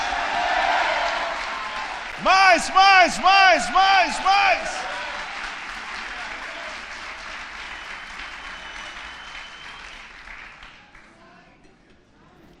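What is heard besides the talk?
audience applause at a church conference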